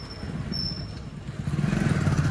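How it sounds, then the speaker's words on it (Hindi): A motorbike approaches on a street, its engine growling low and gradually swelling louder toward the end against background outdoor noise. "और ये सामने जैसे कि बाइक आ रही है"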